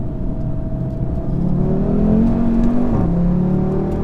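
An Audi S3 accelerates hard under load, its engine note climbing in a steady, loud whir with a rising pitch, then dipping briefly near the end before holding on, with no talk over it.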